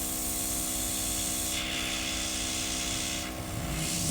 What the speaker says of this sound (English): So you see I'm spraying on the stencil